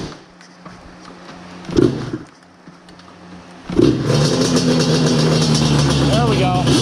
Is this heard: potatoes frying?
no